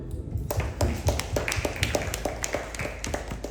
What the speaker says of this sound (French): On fait applaudir